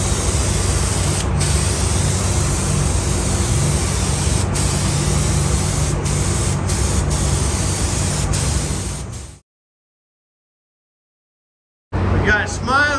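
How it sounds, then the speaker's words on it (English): A spray gun lays coated sealer onto the tailgate of a 1986 Ford F-150 bullnose pickup in a steady, loud hiss. It cuts to silence partway through and resumes briefly at the end. "He's putting the coated sealer on his tailgate."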